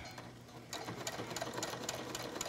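A sewing machine stitches fabric for cosplay bracers, starting after a brief quiet moment and running in a steady, close, moderately loud burst of rapid needle strokes with no talking.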